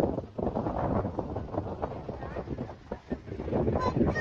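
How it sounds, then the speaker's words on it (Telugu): Strong wind buffets the microphone on Baga–Calangute beach in Goa during the monsoon, with rough surf surging underneath in a steady, loud roar that swells and dips throughout. "ఈ రోజు అలలు ఎక్కువ ఉన్నాయి ప్లస్ మళ్ళీ గాలి కూడా చాలా ఎక్కువ ఉంది"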